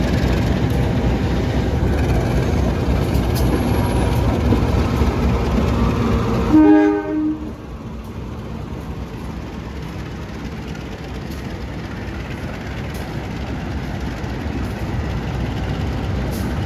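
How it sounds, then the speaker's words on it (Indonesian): The Matarmaja economy-class train roars past at close range with a heavy, steady rumble and a brief horn-like tone, then cuts off abruptly to a quieter, lingering rail hum. "Kereta api Matarmaja, kereta ekonomi new generation ya"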